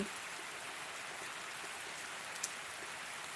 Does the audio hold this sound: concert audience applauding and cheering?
no